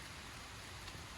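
Steady rain falls on a nature trail at Ololua, a dense, even patter close around with no speech.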